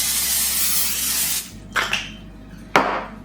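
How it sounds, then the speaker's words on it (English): A steady cooking-spray aerosol hisses into a casserole dish for about a second and a half, then two short, sharp spritzes follow, close and loud. "I'm going to give it a quick spray with my cooking spray"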